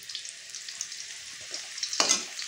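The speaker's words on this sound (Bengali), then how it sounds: "আলুর এক পিঠটা দেখো ভালো রকম বেশি একটু ভাজা হয়ে গেল।" Potatoes fry in a pan with a steady, close sizzle and crackle, a louder burst of spattering near the end; no one speaks.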